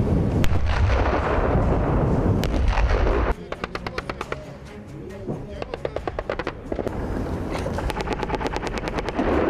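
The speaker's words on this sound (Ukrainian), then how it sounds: "На полігоні імітують лише напад противника, обстріли з артилерії та мінометів." Simulated artillery and mortar fire on a military training range, loud booming blasts and rapid bursts of crackling shots in close succession, with voices heard in the background.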